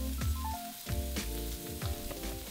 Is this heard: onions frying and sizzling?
yes